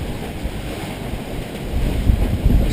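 Ocean waves slap and rush against a sailing boat ripping along with a dinghy in tow, under steady wind noise, building louder toward the end.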